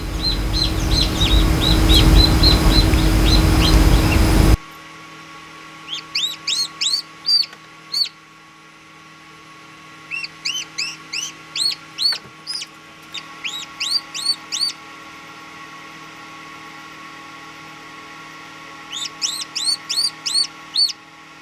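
A newly hatched chick peeps inside an egg incubator, repeated bursts of high, rising chirps in quick groups with pauses between, close and clear over a steady low machine hum; the opening seconds are dominated by louder broadband noise.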